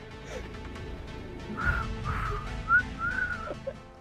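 A man tries to whistle with uneven success, producing a few short, wavering tonal whistles around the middle of the clip, airy and breathy between attempts, close to the microphone with no talking.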